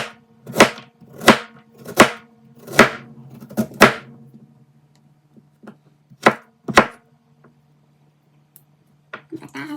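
Ginger sliced with a knife on a board for chicken tinola: a series of crisp, close chops, roughly six in a quick rhythm, then a pause and a few more, with a little background noise.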